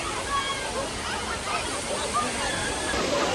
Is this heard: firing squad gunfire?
no